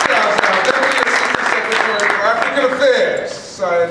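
A round of applause at the Black and Puerto Rican Legislative conference in New York, with clapping mixed under and around a voice that talks over it, loud and close.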